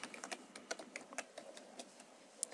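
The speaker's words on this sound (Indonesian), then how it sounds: "kemudian ketik download" Typing on a computer keyboard, as if entering a word into a browser search bar: a quick run of light, irregular key clicks up close, fairly quiet, thinning out near the end, with no talking.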